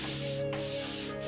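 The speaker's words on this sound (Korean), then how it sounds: "여기에 사포로 마감 손질을 해서 판면을 부드럽게 하니" Sandpaper rubs across a wooden printing board to smooth its face, giving a close, continuous gritty scrape with one short pause partway through.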